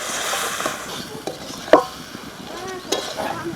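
Capsicum and tomato fry with turmeric and spices in a pan for chicken curry. There is a quiet, steady sizzle with scraping stirs and a few sharp spoon clinks against the pan.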